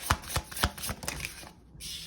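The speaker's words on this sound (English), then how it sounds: "please have your question in mind while I shuffle these" A deck of tarot cards being shuffled by hand, with repeated quick riffling bursts close up, then a brief pause before softer card handling resumes.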